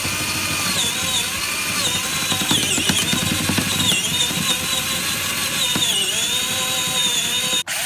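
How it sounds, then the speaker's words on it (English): A power drill boring a 3/8 inch hole through a wooden cross support in the dinette of a 2013 Arctic Fox 25R camper during slide-out room repair, a steady, close, continuous whine and grind running nearly the whole time and cutting off at the end. "I then drilled a 3/8 inch hole through the support."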